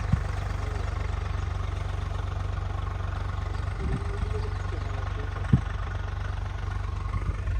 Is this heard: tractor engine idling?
yes